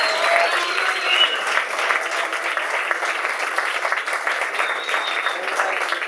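Sustained audience applause for a jazz concert's sound engineer, a dense, even wash of clapping from a crowd at moderate distance, with no voices over it.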